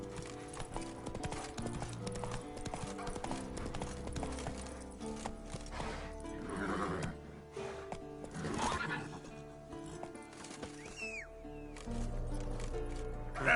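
In The Witcher 3, the horse Roach gallops with steady, rhythmic hoofbeats and lets out a whinny partway through, the galloping faint beneath music and ambient game sound.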